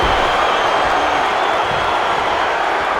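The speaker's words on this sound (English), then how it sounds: "you can't hear yourself think because the crowd's so loud" A loud wrestling arena crowd at an elimination match roars in a dense, unbroken wall of sound, close and steady throughout.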